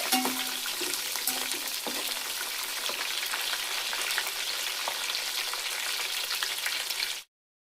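Onion pieces sizzle steadily in hot oil in a pan for chicken biryani, a close, continuous frying hiss with a few faint utensil taps before it cuts off abruptly.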